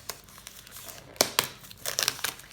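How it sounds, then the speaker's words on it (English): Close crinkling and tearing of thin cellophane being peeled off an illustrated herbal book, soft and fairly quiet, with a few brighter rustles toward the end. "I'm going to take the cellophane off."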